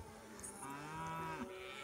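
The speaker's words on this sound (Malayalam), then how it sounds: "ഒരു കർണാടക എരുമയാണ് ഈ നിൽക്കുന്നത്." A Karnataka buffalo at a cattle market lets out one long, loud, drawn-out moo, heard close over a steady background of market noise.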